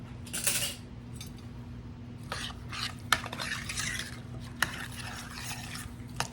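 A spoon stirs tomato preserves with celery seed in a pot, with soft scraping and intermittent light clinks against the metal over a steady low hum, close and fairly quiet, with no talking.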